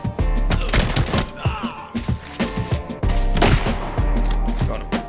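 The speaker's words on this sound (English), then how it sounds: "The echoes of gunshots emanated from the hotel" Gunfire echoing from a hotel in the shooter game Arena Breakout, with rapid bursts of shots and heavy thumps repeating over several seconds, loud and reverberant with short pauses between volleys.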